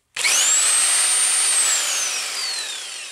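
A Bauer 1/2-inch extreme torque impact wrench runs steadily and loudly at close range, one continuous high-pitched whirring burst with a faint falling whine as it slows, with no voices.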